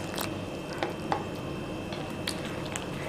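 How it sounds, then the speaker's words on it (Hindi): Rice flour dosa batter being stirred with water added little by little in a bowl, giving soft wet squishing and light patter with occasional small clicks. "अब हम इसमें थोड़ा थोड़ा पानी डालकर अच्छे से बैटर बना लेंगे।"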